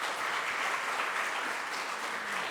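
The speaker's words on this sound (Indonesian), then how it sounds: "Tepuk tangan untuk dia." An audience at a charity concert applauds for a performer, an even, continuous wash of clapping that holds steady at a fairly close, full level throughout.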